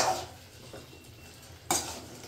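Chicken pieces stirred in a pan for Bihar-style chicken, with a soft continuous sizzle under two sharper scraping stirs, one at the start and one near the end.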